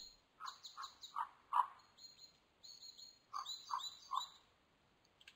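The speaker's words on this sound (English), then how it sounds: "Now there's a frog." A frog in the fishing video game Open Fishing croaks in two bursts of repeated chirpy calls, about four in each run, clear and close against a quiet background.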